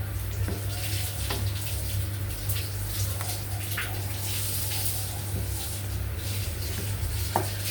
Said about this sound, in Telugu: దీంట్లో సరిపడా వాటర్ వేసుకోవాలండి అంటే ఇంచుమించు ఒక హాఫ్ గ్లాస్ పడతాయండి వాటర్